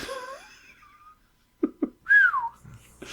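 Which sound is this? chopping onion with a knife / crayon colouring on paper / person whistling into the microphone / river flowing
person whistling into the microphone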